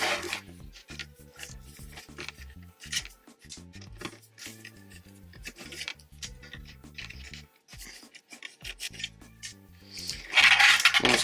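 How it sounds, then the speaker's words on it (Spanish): Screws being removed from a computer motherboard give scattered small metallic clicks, taps and scrapes, close and irregular, ending with a louder burst of rustling handling noise. "hay que sacar estos tornillos que vemos acá, que están sujetados del otro lado"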